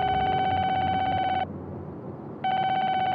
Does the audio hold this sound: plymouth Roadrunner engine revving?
no